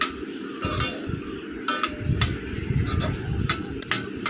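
Noodles being mixed with chilli powder, salt, turmeric and chaat masala, irregular scraping and clattering strokes of a utensil against a pan in quick bursts, close and fairly loud.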